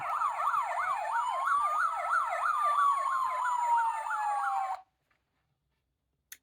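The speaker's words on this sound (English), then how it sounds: "F is for fire engine." A toy fire engine siren from a children's transport sound book wails in fast, repeating up-and-down sweeps, loud and steady for almost five seconds before cutting off abruptly into silence.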